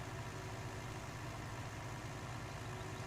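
A John Deere 40 series tractor engine in Farming Simulator 19 drones steadily, a low continuous rumble with no breaks, fairly faint and with no voices.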